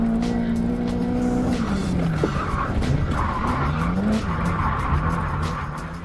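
A car drifts in the racing game Project DBR, engine droning and revving as tires squeal and skid continuously through a slide, loud and close throughout.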